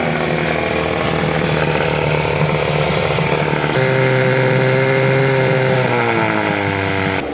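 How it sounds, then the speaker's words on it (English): A loud motor idles steadily with a droning buzz, pitch shifting slightly partway through, with no talking. "Look, the engine's just sat here, been on."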